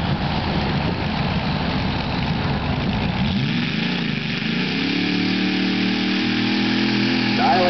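An 860 kg open mini modified tractor-pulling vehicle's engine roars loud and continuous as it launches off the line at a pull event, the tone shifting and settling into a steady drone as it pulls away, with a commentator talking.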